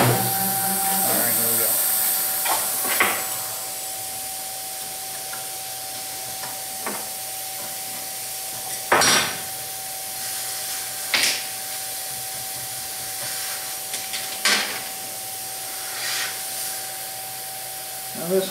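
DIY CNC machine drilling holes in a porting plate, a steady mechanical hiss with a constant tonal whine and several sharp bursts as the drill plunges, while someone talks intermittently over it.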